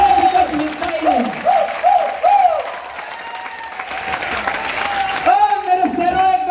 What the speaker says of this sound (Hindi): एक बार ताली बजा दो उस अपलाइन के लिए